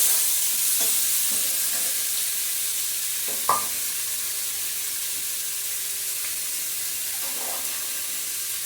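Onions fry in a pan over a medium gas flame, with a soft steady sizzle and a few faint clinks and scrapes of stirring.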